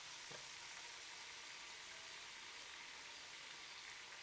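Faint, steady sizzling hiss of food frying in a pan, continuous and quiet, with no talking.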